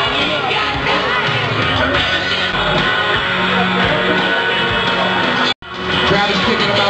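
A loud, dense crowd roars and cheers at a bar arm wrestling championship, with shouting voices throughout and a brief cut near the end.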